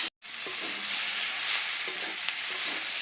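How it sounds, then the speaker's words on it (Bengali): Green chillies sauté and sizzle in a pan while being stirred, giving a continuous close frying hiss with soft scraping strokes after a momentary dropout at the start. "কাঁচা লঙ্কাটা দিয়ে আমি আরও একটু নেড়ে ছেড়ে কষে নিচ্ছি।"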